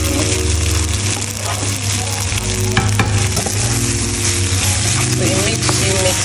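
Rice and vegetables frying and being stirred in a pan for fried rice, with a steady loud sizzle throughout and repeated scraping, clinking stirring strokes over it.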